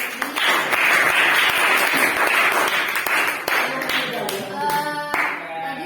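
Applause from a classroom group for a presenter, steady dense clapping filling the whole stretch before it thins out toward the end, with a voice speaking over it.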